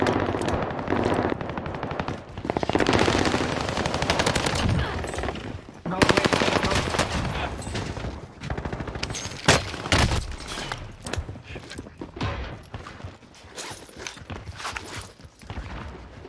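H4 Blixen submachine gun fire in the video game Warzone on Rebirth Island: rapid full-auto bursts crackle repeatedly, loud and close, mixed with footsteps, impacts and other game effects.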